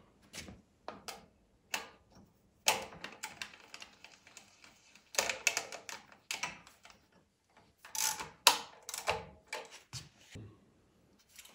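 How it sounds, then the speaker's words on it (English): Bolts on a gas generator being converted to natural gas are run down snug with a ratcheting wrench, giving close, irregular bursts of clicking and metallic clatter with short pauses between them. "Run that all back down snug with your wrench."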